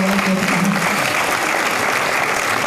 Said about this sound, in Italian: Un applauso così la scandiamo alla giuria.